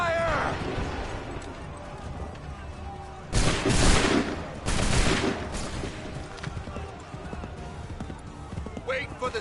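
Musket volleys ring out in an Assassin's Creed 3 battle, with two loud broadband bursts of massed gunfire over a continuous din of distant shots and hooves, and voices shouting nearby.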